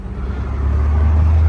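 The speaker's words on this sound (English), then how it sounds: "Sorry about the noise and the wind out here today." Steady outdoor wind rumble with low traffic drone, loud and continuous, beside a GMC Terrain during a side console scratch repair.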